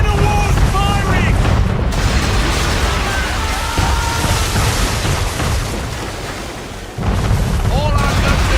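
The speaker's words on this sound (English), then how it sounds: "We're under attack! Man of war's firing!" Man-of-war warship cannons booming in a naval battle in Assassin's Creed III, loud sustained roaring blasts with rumbling, a voice shouting briefly over the barrage.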